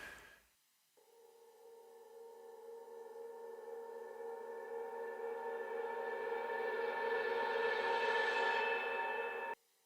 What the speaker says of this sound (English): it's just a vocal phrase being recorded with a lot of reverb and some effects on it and reversed